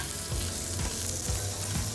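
Onion fries in oil in a pan with a steady, dense sizzle, close and even throughout, and a few soft stirring knocks underneath.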